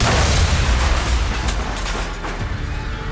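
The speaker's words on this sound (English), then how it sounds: "A car in Arbenz's motorcade explodes." A car bomb explodes in a motorcade on a Guatemala City street, with a loud, dense roar of blast and rumbling debris that slowly fades across a few seconds.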